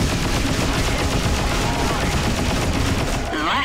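Dense, continuous explosions and crackling blasts from space combat in the video game Freelancer with the Crossfire mod, loud and unbroken, easing off slightly right at the end.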